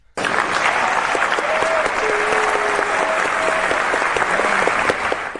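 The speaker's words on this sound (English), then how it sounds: "Applause." Applause sound effect from a presentation tool, a steady wash of clapping hands that starts abruptly and holds at an even, loud level for several seconds with no talking over it.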